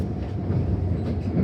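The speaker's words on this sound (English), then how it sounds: "Two trains just past us" Melbourne suburban train on the Frankston line, rolling steadily with a continuous low rumble and faint clatter throughout, close by and without speech.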